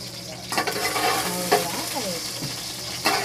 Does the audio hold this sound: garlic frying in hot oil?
yes